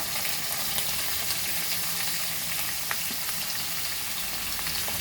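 Onion and tomatoes fry in a pan with a steady, dense sizzle that holds evenly throughout, close and unbroken, with no talk.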